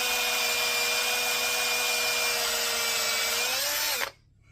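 Bench grinder shaping a metal part for an Echo 4910 waffle saw build, a loud steady high whine that holds for about four seconds and then cuts off abruptly.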